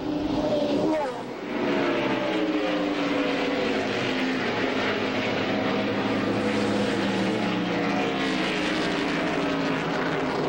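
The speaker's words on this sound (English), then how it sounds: "Watching the one car go down the straightaway" A NASCAR Winston Cup race car engine roars along the straightaway at Watkins Glen International, a loud, sustained high-revving drone with shifting pitch, mixed with crowd and broadcast ambience.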